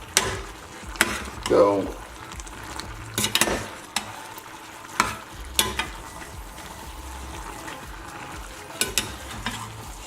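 Pasta in homemade tomato sauce is stirred in a single pot, giving soft intermittent scrapes and clacks of a utensil against the pot over a low simmering background, with a brief spoken word.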